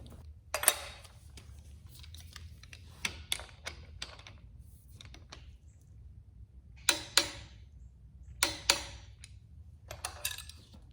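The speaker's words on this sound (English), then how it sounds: "this one you're going to torque down between 40 to 45 foot-pounds." Clicks from a torque wrench tightening the cam bolt on a Ford 408 engine during long-block assembly, a few sharp ticks scattered in groups across a quiet background with a low steady hum.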